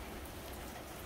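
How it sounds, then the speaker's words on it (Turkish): Steady rain falls outdoors in a dense, even patter that fills the whole brief moment with no voices. "Baya yağış, her yerde yağmur oluyor."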